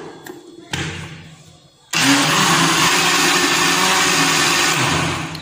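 Electric mixer blending cream into homemade butter in a home kitchen, starting with a short weak burst, then a loud steady whirring churn that runs for several seconds and cuts off near the end.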